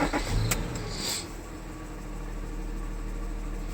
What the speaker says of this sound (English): then try to start up the car